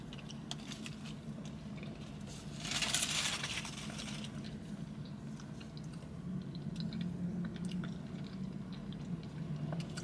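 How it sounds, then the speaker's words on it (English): Close, wet chewing and biting on a Taco Bell spicy white sauce burrito, soft squishy crunches with a louder bite midway, no talking. "let's take a couple bites of this"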